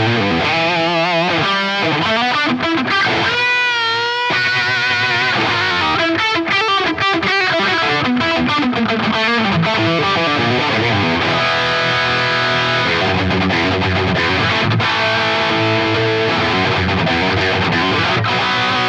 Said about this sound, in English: Now let's put it just a little bit of delay and reverb.